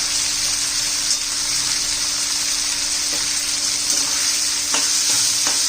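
Asafoetida, cumin and mustard seeds sizzle in hot oil with a loud, even hiss throughout and a few faint crackles and pops near the end.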